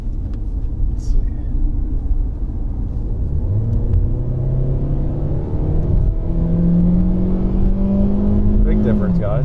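A 2016 Kia Soul with a 2.0-liter engine and a loss of power revs up, its engine pitch climbing and sliding through several rises over a steady exhaust rumble, loud and close, with someone talking over it.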